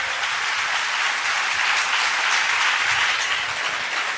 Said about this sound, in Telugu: చప్పట్లు కొట్టి మహిమ పరుద్దాం